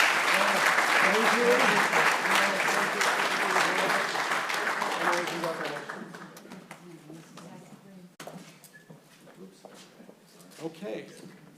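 Applause from the audience at the Maeder Hall ribbon cutting ceremony at the Andlinger Center, a dense, loud burst of clapping with talk over it that fades after a few seconds into scattered claps and quieter voices.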